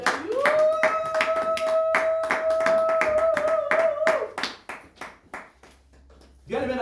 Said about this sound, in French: nous acclamons très fort pour la gloire de Dieu